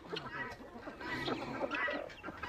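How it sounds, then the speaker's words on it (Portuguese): Chickens cluck and squawk on a farm with a peacock nearby, a busy, continuous mix of close bird calls with no talk. "Ei, Dali, Rapaz, esse pavão atrás de brigar com a galinha."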